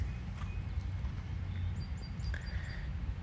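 A young mare walks on firm ground, her hooves clip-clopping in a soft, steady rhythm at a moderate distance, faint against quiet background noise, with a few bird chirps.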